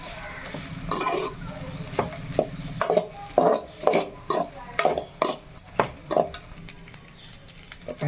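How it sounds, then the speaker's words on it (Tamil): Cooked rice being stirred and mixed in a pan over a low flame, with a soft sizzle under a series of sharp, rhythmic spatula knocks and scrapes against the pan, close by and fairly loud. "இப்போ வடித்து சாதம் சேர்த்துட்டு அடுப்பை சிம்மிலே வச்சு நல்லா மிக்ஸ் பண்ணிக்கலாம்"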